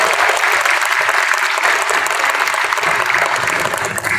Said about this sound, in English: I would like to ask all my schoolmates to join me in giving all the teachers and school management a round of applause